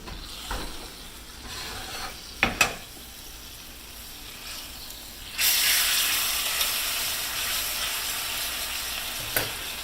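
London broil steak sizzles in a hot skillet, a steady close hiss with a few sharp knocks early on, then a louder, brighter surge of sizzling that holds to the end.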